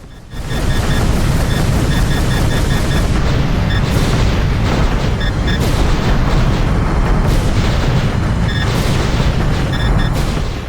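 Panzer Dragoon 2 gameplay on emulated Sega Saturn, with a loud continuous wash of booming blasts and explosions, plus sharp high electronic tones that repeat in short bursts over the dense roar.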